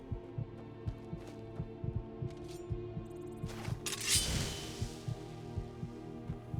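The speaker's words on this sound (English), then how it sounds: "You can still hear their heartbeat" A steady heartbeat pulses in Skyrim, its low thumps arriving in an even, quick rhythm over a soft hum, with a brief brighter clink partway through.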